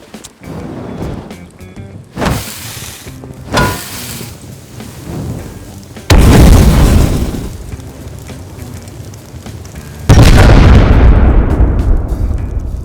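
Several loud blasts of explosive charges go off one after another in the video game Rust, each a sharp burst followed by a rumbling decay, with the last two the heaviest.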